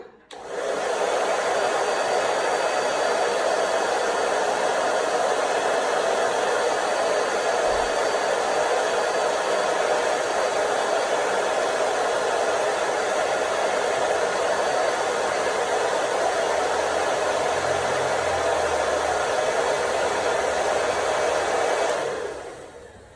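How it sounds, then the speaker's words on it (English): A hair dryer fitted with a diffuser blows steadily for about twenty seconds, a loud even whooshing hum that switches on and later cuts off abruptly. "pixie diffusing is when you place your hair into the dryer, you turn on"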